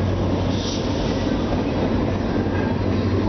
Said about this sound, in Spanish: ahí sale el ferrocarril para pasajeros ya. Sale de frente, se va a Chosica.